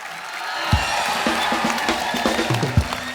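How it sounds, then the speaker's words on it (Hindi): Studio audience at a TV comedy show cheers and claps, with whoops and shouts over steady applause and a few sharp thumps standing out near the start and end. "एक बार हमारे प्यारे अन्ना जी के लिए जोरदार तालियां"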